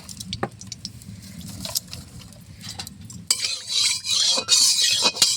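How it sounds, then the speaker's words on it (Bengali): Goat fat hits hot mustard oil in a wok. Scattered utensil clinks and stirring come first, then a loud, bursting sizzle rises and surges in waves up close, with no voices. "চর্বিটা ভেজে নিব।"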